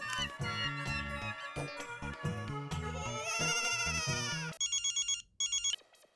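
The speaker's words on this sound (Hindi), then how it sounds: "भिड़े को फोन करता हूँ।" A telephone rings with a trilling electronic tone in two short bursts, coming after a stretch of loud music.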